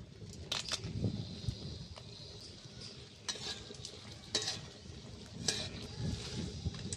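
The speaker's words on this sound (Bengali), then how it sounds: "এবার আমি শুকনো লঙ্কাটা ভেজে নেব, দিয়ে দিচ্ছি শুকনো লঙ্কা।" Dried red chillies frying in hot oil in a wok, a soft steady sizzle with occasional stirring scrapes and clinks, moderately quiet and close, with no talking.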